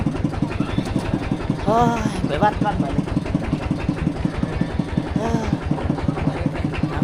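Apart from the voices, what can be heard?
walking tractor engine running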